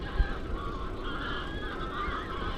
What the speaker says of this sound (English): there's all these geese again